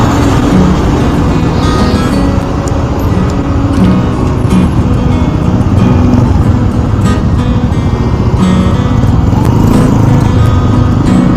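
Heavy downtown traffic on a coastal road in Tabaco, crowded with pedicabs: a dense, continuous roar of small motor engines close by, loud and unbroken throughout, with scattered clatter and faint horns.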